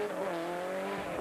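A WRC rally car launching hard from the start line at 5,000 revs, engine howling loud and sustained for a brief moment with a tyre-scrabbling edge.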